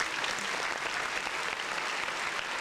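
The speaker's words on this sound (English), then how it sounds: "Round of applause for all the ladies who can handle menopause height." Audience applause at a steady, even level, a continuous wash of many hands clapping from start to finish without a pause.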